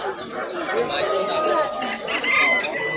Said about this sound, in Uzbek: Ajoyib xo'roz ekan.